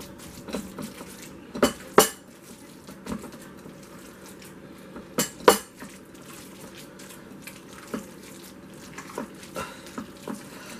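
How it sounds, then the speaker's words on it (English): Swedish meatball ingredients mixed together by hand in a bowl, soft wet squishing with a few sharper knocks against the bowl, irregular and close, with quiet stretches between. "Mix it all in there together. Get it all nice and incorporated. Mix it really well."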